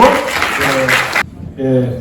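An audience at a debate festival closing ceremony gives a short burst of loud applause that cuts off, followed by a speaking voice.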